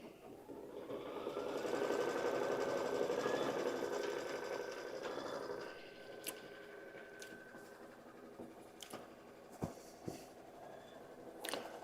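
A Kimberbell embroidery machine stitches a fabric placement line, giving a steady, fairly quiet mechanical whir for several seconds, then scattered clicks and taps.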